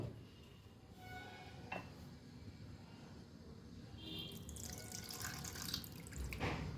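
Water is poured from a vessel into sour yogurt in a bowl as a breakfast batter is mixed, giving a steady close trickle with drips and splashes near the end.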